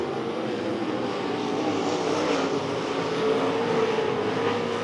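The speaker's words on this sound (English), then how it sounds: "As we continue to race on here in the White Horse Tuning and Dyno USRA modified feature" USRA modified race cars roaring around the Devil's Bowl Speedway oval during a feature race, a steady dense engine drone that swells slightly as the pack passes, continuous and fairly loud with no talk.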